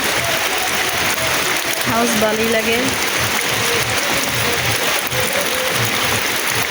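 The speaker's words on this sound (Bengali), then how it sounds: "টিনের চালের উপরে বৃষ্টি ফোঁটা পড়ে" A steady rush of rain patters on a tin roof while a person speaks briefly over it.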